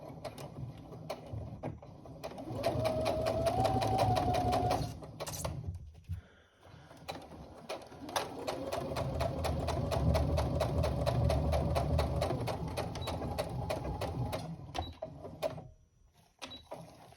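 A sewing machine runs a half-inch seam in two sustained bursts of fast, even needle clatter with a motor hum, close and fairly loud, separated by a brief pause and handling sounds.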